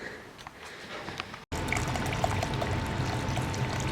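Paint glugs and splashes as it is poured from a bottle in a spray booth while refinishing a crashed Nissan R32 drift car; a steady close liquid pour follows a brief gap.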